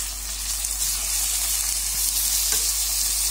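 Chopped onions and tomato sizzling steadily in a hot pan, a continuous close frying hiss with a faint stir clatter, no voices.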